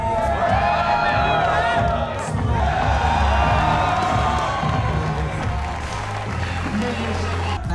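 A large crowd at a combat sports event featuring Henry Cejudo cheers, whoops and applauds in a loud, continuous roar, with a nearby voice talking over the noise.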